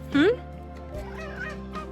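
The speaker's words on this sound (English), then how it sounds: "Look at these chickens over here." A single short, loud fowl call rings out near the start, followed by a steady low hum with faint background noise.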